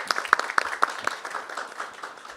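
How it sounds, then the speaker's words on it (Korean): Audience at a policy roundtable applauding to welcome a presenter, a modest group clapping with a few sharp, distinct claps up front, tapering off toward the end. "박수를 환영해 주시면 고맙겠습니다."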